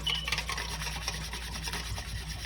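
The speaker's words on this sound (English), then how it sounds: "Just keep whisking" Cream being whisked by hand for peanut butter ice cream, a steady close scraping and rubbing rhythm of the whisk against the bowl, fairly quiet and continuous with no talking.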